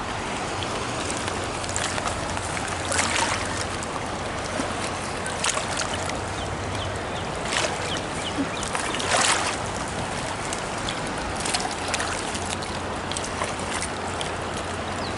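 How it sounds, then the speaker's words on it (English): A fast-flowing river swollen by two days of rain rushes steadily and loudly nearby, a dense continuous roar with splashy surges. "the river is flowing so loudly right now"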